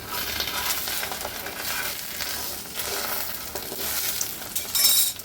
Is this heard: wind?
no